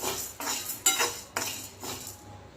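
A spoon scrapes and clanks rhythmically against a metal wok as sago pearls are stirred and roasted over a gas stove, about five distinct scraping strokes at close range.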